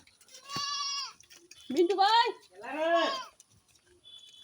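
A she-goat bleats three times in drawn-out, wavering calls at close range, with short pauses between them and a person briefly speaking nearby.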